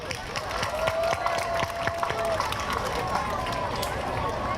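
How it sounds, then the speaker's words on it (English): Audience at a World Refugee Day gathering gives a round of applause, a steady close patter of many hands lasting several seconds with a faint tone and scattered voices underneath. "Let's give a round of applause to Chopper and Corona"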